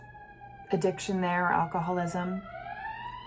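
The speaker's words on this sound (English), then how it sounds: "Sorry about the sirens, wow." A faint siren wails steadily in the distance while someone speaks over it, its pitch slowly rising toward the end.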